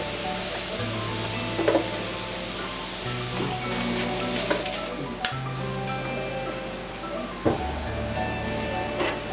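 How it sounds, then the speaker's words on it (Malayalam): Chili powder sizzles in hot oil after the stove is switched off, a soft steady frying hiss broken by a few stirring clicks and scrapes, heard close with no talking. "മുളക് പൊടി ഇടുക."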